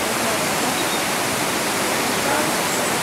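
Karst-fed waterfalls cascading below the village of Orbaneja del Castillo in Burgos, a dense, unbroken roar of rushing water filling the whole clip, loud and steady with no voices.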